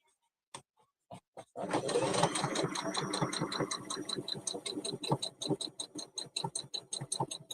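A sewing machine stitches very soft, movable fabric for a handmade teddy bear: a few sharp clicks, then a close, steady run of rapid mechanical ticking and whirring that grows more distinctly rhythmic toward the end.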